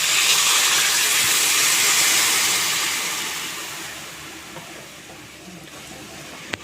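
Water poured into a hot pan of sweet-and-sour mango chutney gives a loud, steady hissing sizzle that slowly fades over several seconds, with no talking.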